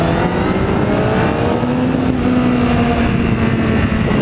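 A BMW M5 engine drones loud and steady, its pitch climbing slightly as it revs, with continuous road and wind noise and no speech.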